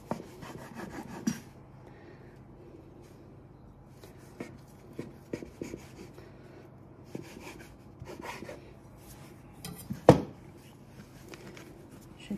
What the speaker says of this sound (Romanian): Deci l-am rulat și îl tai pe mijloc, că vreau să îl întorc așa împletit în două.